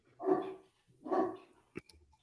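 A dog barks twice, spaced apart and fairly close, followed by a few short sharp knocks or clicks; no one speaks.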